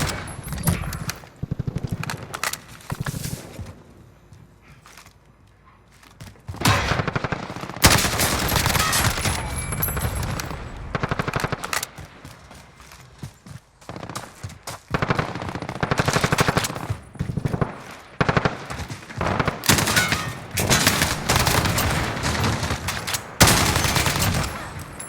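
Unsuppressed automatic weapons fire in Warzone on the Scrapyard map: repeated loud bursts and sustained sprays of shots, with short gaps between volleys throughout.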